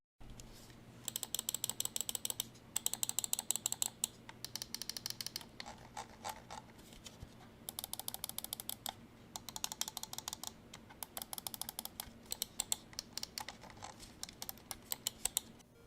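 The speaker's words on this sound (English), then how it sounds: "take a listen to the switches" Rapid, crisp clicking of the switches on a Dareu A950 Pro gaming mouse, heard alone in bursts of quick repeated clicks with short pauses between them over a steady faint background hum.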